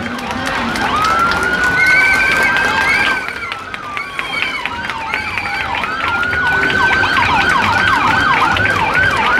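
An Ecuadorian Red Cross emergency vehicle sounds its siren during a Quito parade, sweeping up into a sustained tone and then into fast rising and falling wails, loud over steady crowd noise.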